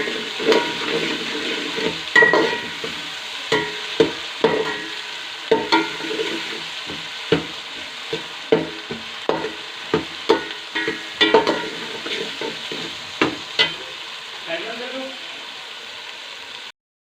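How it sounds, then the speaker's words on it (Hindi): Potatoes and cauliflower fry with chopped green chillies, a soft sizzle broken by repeated sharp spoon knocks and scrapes against the pan at an uneven rhythm, close and without speech. "साथ ही हमने 3 से 4 अदद जो सब्ज़ मिर्चें कट दे के उनको भी साथ डालेंगे और उसको भी फ्राई कर लेंगे।"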